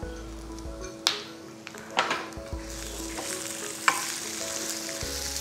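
Chopped onion and two sprigs of curry leaves sizzle in a hot pan for peanut chutney, a steady close crackle broken by a few sharp spoon-and-pan clinks as they are stirred.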